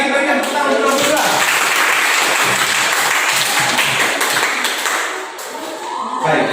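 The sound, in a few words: class applause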